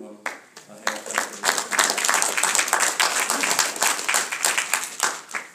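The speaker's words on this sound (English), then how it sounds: "can we please give them a hand clap?" Audience applause at a congressional caucus briefing on Sri Lanka, a burst of hand clapping that swells quickly and continues unevenly for several seconds, close and fairly loud, with some voices mixed in.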